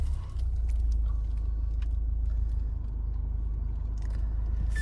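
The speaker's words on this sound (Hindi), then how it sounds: "अब गाड़ी को स्टार्ट करके आप थोड़ा सा एनवीएस वगैरह चेकआउट कर देते हैं।" A 2025 Mahindra Scorpio N Z4 diesel automatic idles steadily after starting, giving a constant low rumble with a faint mechanical clatter throughout and no talking.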